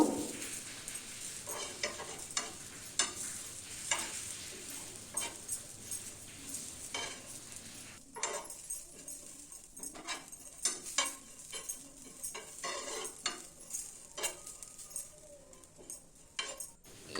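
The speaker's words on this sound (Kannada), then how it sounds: "ಅದು ಸ್ವಲ್ಪ ಬ್ರೌನ್ ಆಗುವ ತನಕ ಹುರ್ಕೊಂಡ್ರೆ ಸಾಕು." Mangalore chicken curry ingredients frying in a pan until brown give a soft, steady sizzle with regular scraping and stirring strokes from a spoon against the pan, fairly quiet, with no voices.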